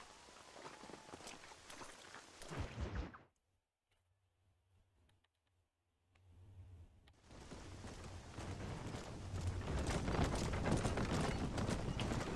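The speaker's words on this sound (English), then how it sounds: "Horse." A horse's hooves clip-clop at a steady pace in Red Dead Redemption, over soft game ambience; the sound drops to near silence for a few seconds in the middle before the hoofbeats return.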